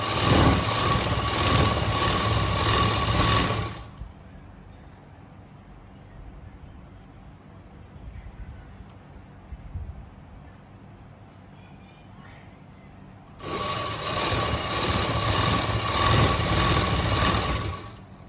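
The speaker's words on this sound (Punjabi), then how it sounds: "ਹੁਣ ਜੀ ਆਪਾਂ ਦੇਖੋ ਸਲਾਈ ਲਗਾ ਲਈ ਆ" Sewing machine stitching a fully lined salwar, running loud and steady for a few seconds, pausing into a quiet room, then stitching again near the end.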